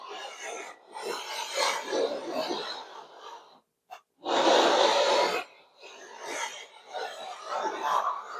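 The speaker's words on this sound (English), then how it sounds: "take your sanding T-bar, make sure you're straight up and down" Sanding block scraping back and forth across a giant-scale P-47 Razorback model plane wing panel, a close, steady rasping rub in repeated strokes with one brief pause, no talk.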